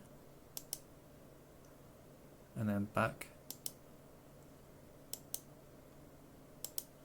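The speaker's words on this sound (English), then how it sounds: "when you hear the click, I'll be clicking over and they'll go white" Soft, sharp computer mouse clicks sound in small pairs across a quiet room while headlights on a Graham Farish Class 47 model train are switched, with a brief spoken remark in the middle.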